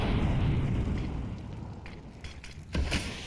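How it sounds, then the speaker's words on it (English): A grenade goes off in a Counter-Strike match on Dust2, giving a loud, rumbling boom at the start that fades away, followed by faint metallic clinks and a second smaller thud. "That nade sent to chase him away."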